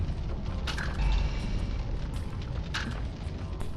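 A fireball spell explodes in the fantasy role-playing game Summoner with a low booming rumble and two sharper crackling bursts, loud and close over a continuous game background.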